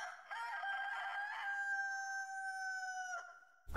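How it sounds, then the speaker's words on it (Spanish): A single rooster crow, long and drawn out, sounding faint and distant against a quiet background, ending with a soft bump. "Lo que sí se oyó, muy a lo lejos, fue un canto de gallo"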